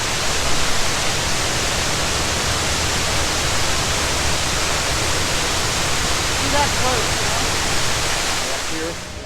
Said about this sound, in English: What a tremendous sound, and the height of this waterfall is amazing.